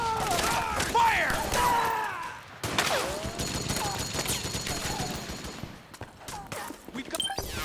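Gunfire rattles through a battle in the video game Metal Gear Solid 4, bursts of automatic fire and impacts mixed with shouting soldiers' voices, loud and continuous throughout.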